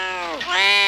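A single short, high, cat-like meow, loud and close, rising and falling in pitch, heard on its own within a comedy courtroom sketch about frying a cat in oil.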